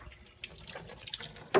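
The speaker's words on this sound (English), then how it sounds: "then you're going to want to rinse everything out" Water runs from a tap into a shop sink while headlight lens cleaning parts are rinsed, a steady close splashing flow with a brief louder splash at the very end.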